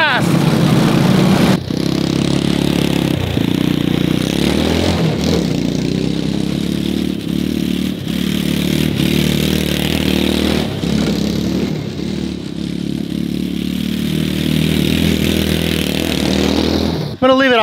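A kids' ride-on Jeep drives along with a steady, loud motor whir and rattling clatter throughout, a continuous near drone with brief dips, under occasional talk.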